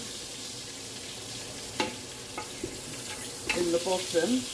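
Meat sears in a pan for soup, a soft steady sizzle with a few sharp scrapes and stirring clinks near the end, and a brief spoken voice over it.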